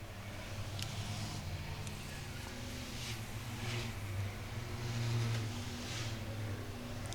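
Race cars lapping Star Speedway during the Six Shooters feature: a steady, distant engine drone that swells slightly, with no talking over it.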